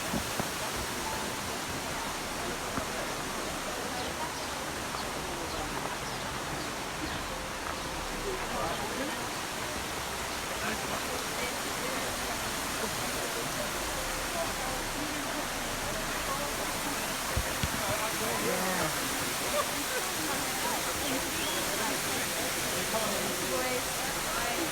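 Steady roar of David's Waterfalls at Ein Gedi near Masada, a broad continuous rush of falling water, close and loud throughout, with faint voices mixed in underneath.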